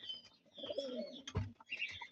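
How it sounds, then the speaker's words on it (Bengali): Bua pigeons coo softly at a pigeon farm in Oman, with a few short chirps mixed in. The sound is brief, close and faint. "বুয়া কবুতর দেখছেন এগুলো বুয়া কবুতর"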